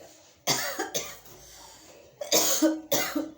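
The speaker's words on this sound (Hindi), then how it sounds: "मुझे खांसी हो गई है" Several close, harsh coughs in two clusters, separated by a quiet pause.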